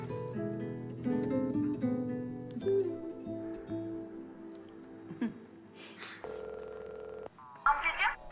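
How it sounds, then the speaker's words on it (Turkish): A phone is dialed: short electronic key tones and beeps at a mobile handset, mixed with a voice and a steady ringback tone partway through, fairly quiet overall. "Neyse ben Eda'yı bir arayayım."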